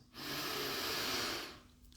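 One long, deep breath drawn in through the nose, a steady hissing inhale lasting over a second, close and fairly loud, with no talk over it.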